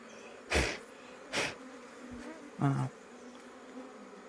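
Honey bees buzz around an open hive during an inspection, a low steady hum with a few louder passes as bees fly close by.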